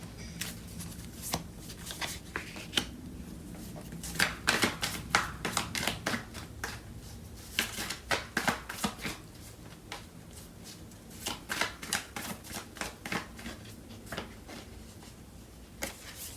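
Tarot cards being shuffled and handled by hand, a run of crisp riffling and tapping bursts in irregular clusters, close and moderately quiet, with no talking.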